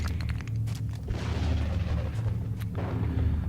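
A grenade explosion in the strategy video game XCOM: Enemy Within lands as a deep rumbling boom with a sustained low roar and debris crackle, loud and close, with no voices.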